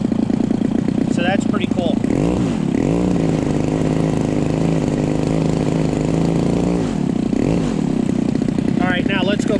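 Gilmore Red Lion model engine running steadily at a loud, constant drone with a sustained buzzing tone, while someone talks over it.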